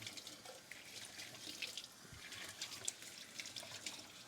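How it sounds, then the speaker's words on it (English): Tap water pours steadily into a kitchen sink over dishes, cups and utensils being rinsed, a close, continuous splashing trickle with small drips and clinks, and no talking. "I'll just leave this water pouring over it"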